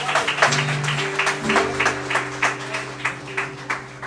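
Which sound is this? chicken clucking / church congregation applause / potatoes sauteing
church congregation applause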